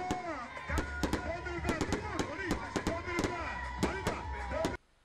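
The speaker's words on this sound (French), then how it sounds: "les artificiers ont illuminé le ciel du village pendant environ 30 minutes" Fireworks burst in a string of sharp bangs over a village during a New Year celebration, some louder and nearer than others, with a voice speaking over them throughout.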